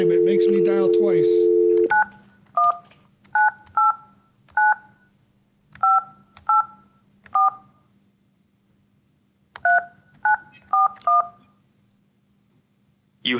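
Touch-tone telephone dialing on a phone acting up, where a short tone gives way to a quick series of clear, evenly loud keypad beeps in two groups over a faint steady hum.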